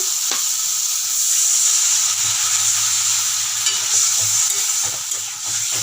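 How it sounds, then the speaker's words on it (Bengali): Potatoes, green chillies and a spoon of vegetable spice sautéed in oil, giving a steady close sizzle and frying hiss throughout, with occasional stirring scrapes and no talking. "এটা এখন কষিয়ে নেব তেল এক চামচ সবজি মশলা দিয়ে দিলাম কাঁচা লঙ্কাও দিয়ে দিলাম আলুটাও দিয়ে দিচ্ছি"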